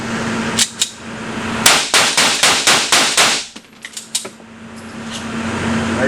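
Rapid burst of about eight loud gunshots from a bullpup rifle, sharp closely spaced cracks after two earlier single shots, then a few fainter trailing clanks over steady background hum.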